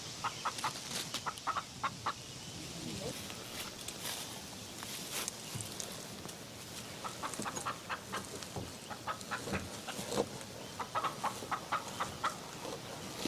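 Chickens on a pioneer-style homestead farm cluck and squawk in scattered bursts, some close and some farther off, with light shuffling and rustling in between and no talk.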